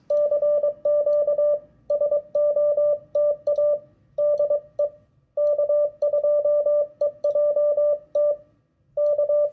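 Morse code CW tones send CQ SOTA for Summits on the Air: a loud, steady single-pitch beep keyed in rhythmic dots and dashes with short gaps, alone with no talk.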